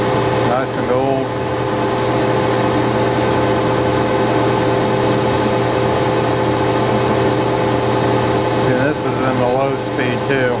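A 1960 Clausing Colchester 15x48 lathe with a 2.5 horsepower motor running at low speed, taking a heavy cut on metal: a steady loud mechanical hum and drone throughout, with someone talking over it.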